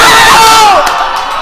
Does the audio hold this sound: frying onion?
no